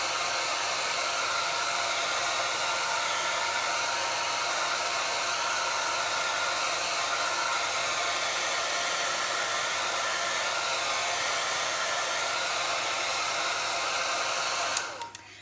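A hair dryer blows steadily and loudly, drying chalk paste on a stencil in a craft setting, a constant whooshing hiss that runs unbroken before cutting off abruptly at the end.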